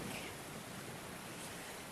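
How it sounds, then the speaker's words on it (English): Continuous broadband rush of flowing water from a stream, a steady even wash with no breaks, heard alone as a radio drama sound effect. "Oh, the sound of that water's driving me frantic."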